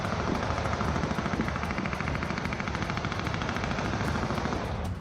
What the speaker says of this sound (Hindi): घात लगाकर किए जा रहे इस हमले में ताबड़तोड़ फायरिंग की आवाज साफ सुनी जा सकती है